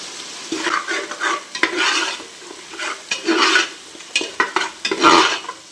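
Tomatoes fry in a pressure cooker for basmati mutton biryani while being stirred. Loud, close scraping strokes of a spoon come in rhythmic bursts over a constant sizzle.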